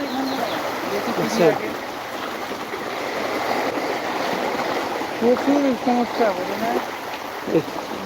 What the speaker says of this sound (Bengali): দেখেন কি রাস্তা এই দেখেন কি স্রোত কি স্রোত